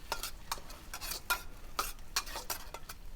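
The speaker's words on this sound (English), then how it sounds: "switch over to a wok tool and give it a good stir" Minced chili and aromatics stirred with a wok tool in a hot wok, giving quick scraping swishes and light clinks in an uneven rhythm over a soft sizzle, close and fairly quiet, with no talking.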